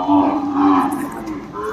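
A cow being brought for Qurbani moos once in a loud, drawn-out call close by, with no talk over it.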